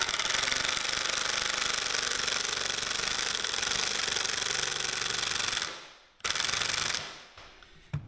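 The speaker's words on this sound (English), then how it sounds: "it is difficult to drive screws in" A power drill drives screws into dense white oak, a loud, close, rattling hammer-like chatter that holds steady for several seconds, then cuts out, bursts again briefly and fades.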